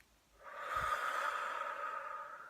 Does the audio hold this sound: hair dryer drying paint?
no